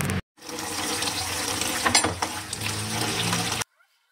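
Running water splashes steadily over Honda ADV 160 center stand parts, a washer and pin, being washed with soap, a loud continuous wash lasting about three seconds with brief uneven surges, then stopping abruptly.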